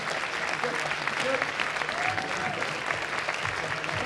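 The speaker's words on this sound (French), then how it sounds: "Bravo à eux, on peut les applaudir." Audience applause at a hackathon closing event: dense, steady clapping from a crowd, moderately loud and even throughout, with faint voices mixed in.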